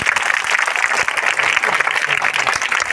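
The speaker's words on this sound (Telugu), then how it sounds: "పెద్దగా చప్పట్లు కొట్టాలా" Loud applause from the audience at a school welcome ceremony for the new academic year, dense continuous clapping held steady for a few seconds, close and crowded.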